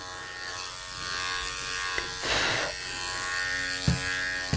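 A Wahl Bravura electric clipper fitted with its longest E-comb attachment trims a dog's leg, a steady close-up buzzing hum with brief changes in tone as it cuts.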